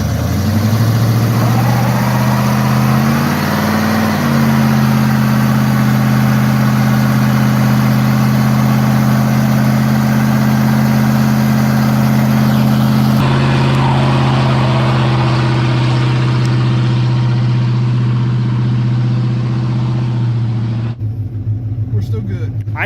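A car engine idling steadily after repair, a continuous low hum that holds constant for most of the stretch and then shifts near the end, with voices talking over it.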